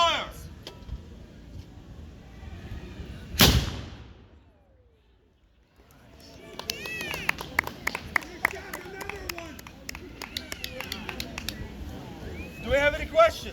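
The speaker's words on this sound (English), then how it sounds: "How quickly can we fire a cannon?" A black powder cannon fires once in a single loud, sharp boom during a Renaissance festival demonstration. The shot cuts through crowd chatter, then a brief hush gives way to applause and cheering with voices talking.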